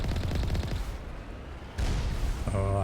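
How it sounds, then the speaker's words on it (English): Heavy cannon fire booms in Mass Effect gameplay, a dense burst of loud blasts that drops out briefly, then crashes back in with ringing tonal effects under game noise. "That's a cannon."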